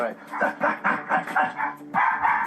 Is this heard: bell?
no